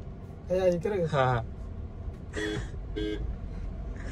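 Two short car horn toots sound close and fairly loud in traffic, coming right after a burst of people talking over a steady low road rumble.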